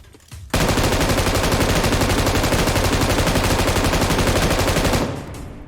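In PUBG Mobile, a gun fires a long, continuous automatic burst lasting about four and a half seconds, loud and rapid with a steady rhythm, then stops abruptly; no voices are heard.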